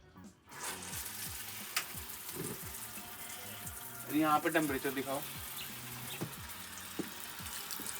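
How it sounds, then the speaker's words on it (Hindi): Shower water running inside a 1977 school bus, a steady hiss of spray with a brief louder gush midway, while a person talks over it. "गर्म पानी आ रहा है यार, बहुत अच्छा वाला"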